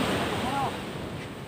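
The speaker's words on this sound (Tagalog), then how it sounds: "Dinidilaan na ng alon yung bangka" Waves wash against a small wooden outrigger boat that has just had its outrigger removed, on a rough sea with big swells: a steady, close surf wash with wind noise, no speech.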